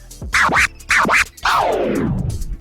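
On a turntable, two quick back-and-forth baby scratches followed by a longer, slower dragged scratch sliding down in pitch, all close and loud.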